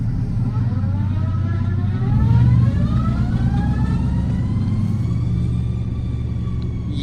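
A 2000 GMC Sierra with a 5.3 V8 Vortec and a faulty transmission idles in drive, a steady low engine rumble with rising and falling whine tones and a brief louder surge, no talking.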